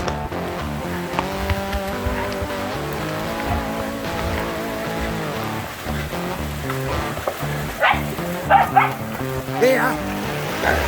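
Hunting dogs bark and yelp while tracking a wild boar in South Island bush, sharp repeated barks rising late among a tonal whine and a voice speaking nearby.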